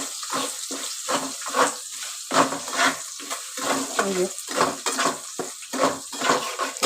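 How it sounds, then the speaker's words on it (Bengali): Chopped ginger and garlic frying in oil while being stirred, a continuous sizzle broken by repeated scraping strokes of a spatula in the pan, close and loud with no talk. "এবার আমি আদা রসুনটাকে নেড়ে নিচ্ছি তেলের ওপর"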